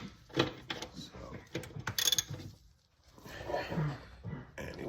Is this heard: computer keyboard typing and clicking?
no